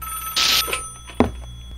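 An in-game telephone in Five Nights at Wario's 2 gives one loud ringing burst, followed by a short mechanical clunk like a receiver being handled, with quiet room tone around it.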